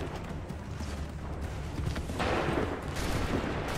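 Massed musket volleys in Assassin's Creed 3, a dense crackling fusillade that swells and rolls at mid distance, fairly faint, with no clear talk.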